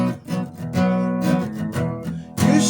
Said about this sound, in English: This time, this aspect is just strumming, just simple strumming.